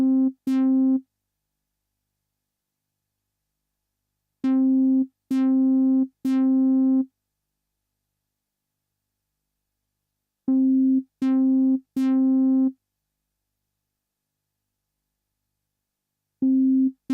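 Yamaha DX7 FM bass patch with key velocity sensitivity, played as short sustained synth notes in clusters of two and three, each with a sharp attack and separated by silent gaps.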